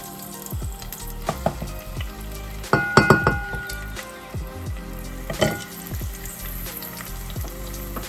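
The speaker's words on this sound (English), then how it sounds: "you want to saute or cook out your EPIS. So I'm going to add some EPIS." Haitian epis seasoning sautés in hot oil in a pan as rice is prepared, giving a steady close sizzle broken by clinks and taps from stirring, with a louder burst of utensil clatter partway through.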